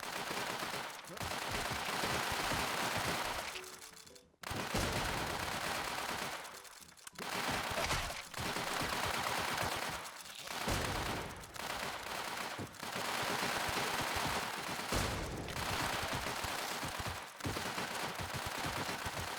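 Rapid automatic gunfire from a shooting video game rattles in long, dense bursts broken by short gaps, loud and close throughout.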